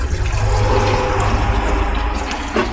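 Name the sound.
water flowing down a small gold prospecting sluice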